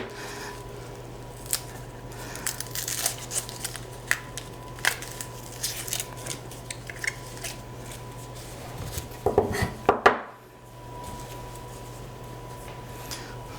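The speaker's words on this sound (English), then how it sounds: "Make sure when you're cutting the onion up, you be careful with your fingers." A knife cuts through an onion on a board in a kitchen, making a run of soft, fairly faint scraping slices with a louder cluster of cuts near the end, under a steady low hum.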